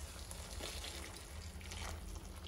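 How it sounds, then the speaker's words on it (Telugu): Boiled water poured into a cooking pot for soya chunks pulao, a steady, close gushing flow of liquid that stays even throughout, quiet and alone without talk. "ఆ నీళ్లు దీంట్లో పోస్తాను"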